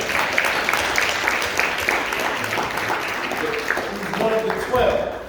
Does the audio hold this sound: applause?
yes